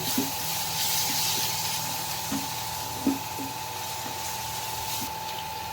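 Aubergine pieces for a UK-style baingan bharta fry in a pan, giving a steady, close sizzling hiss with a handful of soft pops and crackles scattered throughout.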